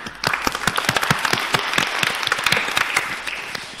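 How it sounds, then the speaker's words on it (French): An audience at a round-table conference gives a burst of applause, dense overlapping hand claps starting abruptly and continuing steadily, fairly close, with no talk over it. "on peut l'applaudir."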